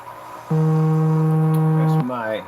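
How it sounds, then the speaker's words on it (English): An alarm goes off with a steady, buzzy electronic tone held for about a second and a half, loud and close, followed by a brief voice. "That's my alarm's going off."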